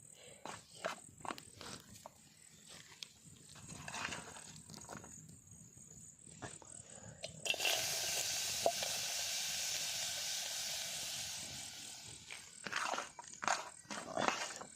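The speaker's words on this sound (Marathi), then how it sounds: "तर हा कांदा ना आपल्याला करपून घ्यायचा" Onions sizzle in hot oil while frying for an egg matka dum biryani, a steady hiss that swells loudly partway through amid clattering and rustling kitchen sounds.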